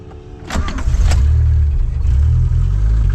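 Dodge Charger with a 2.2 engine idling high, about 3,000 RPM: after a couple of sharp clicks the engine settles into a loud, steady close-up drone that holds to the end.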